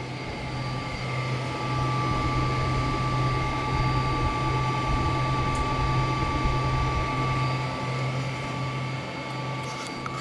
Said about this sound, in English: Let me let you hear these fans spool down.